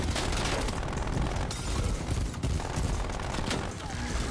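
Continuous loud gunfire fills a Call of Duty multiplayer match, with rapid automatic bursts and booms packed densely together and a player talking over the shooting.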